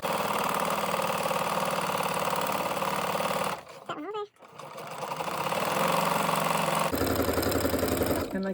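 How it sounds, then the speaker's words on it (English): Sewing machine chain-stitching scrappy heart quilt blocks: a steady, fast, close mechanical whir that stops briefly, then resumes at full speed, with someone talking quietly. "So just keep sewing these."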